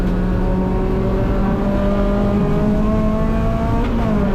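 A race car engine is driven flat out on the GingerMan track, a loud continuous high-revving roar with rising and shifting tones and no voices over it.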